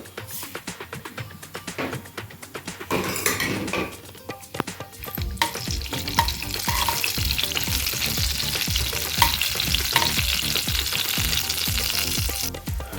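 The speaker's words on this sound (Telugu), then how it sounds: "ఆయిల్ వేడెక్కింది ఇందులో నేను ఫస్ట్ జీలకర్ర వేసుకుంటున్నాను అలాగే ఆవాలు" Cumin and mustard seeds crackle and sizzle in hot oil for tomato coriander chutney, a steady loud frying hiss with sharp popping bursts and stirring, no voices.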